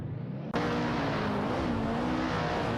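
Race cars roaring in a racing video game, with a sudden loud burst of engine noise that holds steady as cars overtake an Assetto 515 and a Volkswagen in quick succession.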